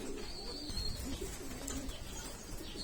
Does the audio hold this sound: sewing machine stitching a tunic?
no